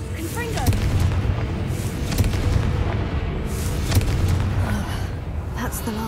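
Booming spell blasts of the Confringo fire spell in the Hogwarts Legacy PC game, several explosive hits spread across the clip amid continuous game ambience, with a voice speaking over it.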